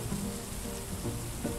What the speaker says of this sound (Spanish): Que se va rellenando de la lluvia